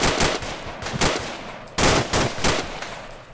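Gunfire in an Arma military game: loud bursts of automatic rifle fire crack in rapid clusters, with a brief gap before another volley resumes, close and dense throughout.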